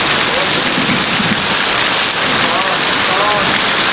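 Heavy, dense patter of hail striking tents and surfaces all around on a camping trip, a constant loud rattling roar with faint voices underneath.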